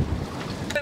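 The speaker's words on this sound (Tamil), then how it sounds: "செம்ம காற்று அடிக்குதுங்க" Strong wind blowing outdoors at the coast in Sri Lanka, a steady broadband roar buffeting the microphone continuously, loud and close.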